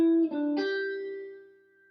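A guitar plays a short beginner's phrase from a song, a few plucked notes ending on one sustained tone that rings and slowly fades, close and alone.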